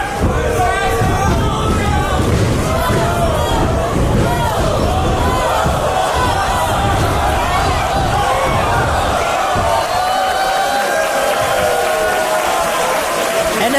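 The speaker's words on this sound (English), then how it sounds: "The crowd is absolutely electric." A packed arena crowd roars continuously at a professional wrestling match, a loud, sustained wall of cheering and shouting with overlapping voices.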